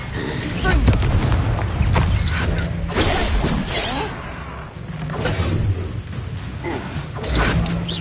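Confringo blasting spells in the video game Hogwarts Legacy burst repeatedly in sharp, loud explosive cracks and booms amid busy combat noise, with voices shouting between the blasts.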